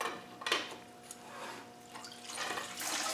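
Coolant pouring out of a Land Rover 300Tdi engine block into a bucket, a faint splashing trickle in short bursts, quiet and close.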